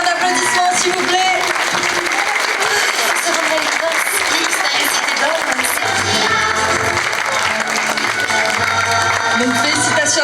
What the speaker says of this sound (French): Un tonnerre d'applaudissements s'il vous plaît.